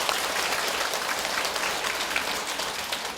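An audience at a Catholic retreat lecture gives a steady burst of applause, a dense clapping wash that fills the room at moderate distance and fades slightly toward the end.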